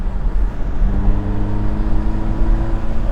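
An old car under way on the road, its engine droning steadily with a low rumble and a faint whirring tone held at an even level throughout, no voices over it.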